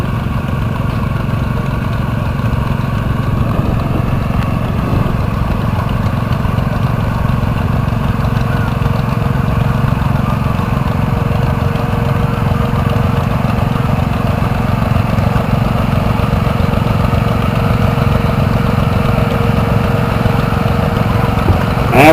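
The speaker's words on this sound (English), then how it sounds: "Next up, we have a Case 210 garden tractor, owned by Kevin Daly, driven by Draven." A Case 210 garden tractor at a hometown show runs steadily: a loud, close single-cylinder engine drone with a constant low rumble and even, unbroken idle that holds throughout with no talk over it.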